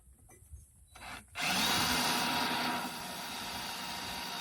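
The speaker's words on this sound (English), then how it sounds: "Go ahead and drill that hole in there." A power drill starts up after some quiet handling noises, then runs loud and steady, grinding through soft aluminum with a high whining bite while installing an outrigger on a Hobie PA 14 kayak.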